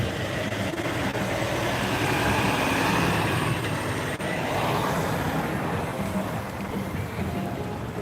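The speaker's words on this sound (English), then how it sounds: "Oh, there's a truck." A truck rolls along a street amid the aftermath of rioting near the 3rd Precinct in Minneapolis, its broad engine rumble and road noise loud and steady throughout, close by with general outdoor commotion behind it.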